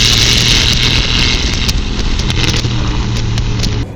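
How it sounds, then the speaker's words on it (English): A 2019 Aston Martin Vantage with its exhaust loud on throttle overrun, a close, heavy rumble with rapid crackling pops and bursts, sustained and forceful throughout. "It's so much louder than I thought Aston Martin would do with the throttle overrun."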